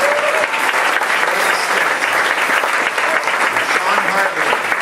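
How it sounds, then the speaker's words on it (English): A warm round of applause from a theatre audience for the lyricists on a musical program, dense and steady clapping that fills the room throughout with crowd murmur beneath. "I really want to give a warm round of applause for the lyricists on tonight's program."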